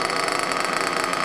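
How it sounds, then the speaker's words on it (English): A Trinity Extech .24 nitro engine in an RC car idles with a steady, buzzy, high-pitched drone, continuous and close with no pauses. "Wow, unreal sound that motor makes."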